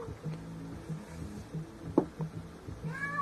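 A house cat meowing indoors, a few faint short mews and one sharper cry in the middle, over low background hum.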